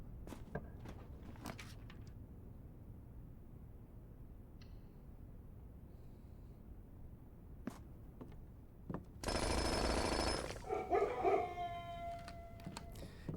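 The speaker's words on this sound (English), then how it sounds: "Hearing the dogs bark every time it's a very satisfying game design choice." Dogs bark and howl as a room is unlocked in the video game Blue Prince, a loud broadband burst of sound late in the clip following quieter footsteps and game noises, with no talking.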